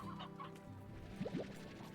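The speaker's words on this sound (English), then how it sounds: "capturing chickens" Chickens cluck in short, chirpy bursts in the video game Slime Rancher, over a steady backdrop of game music and ambience, with a couple of rising squawks near the end.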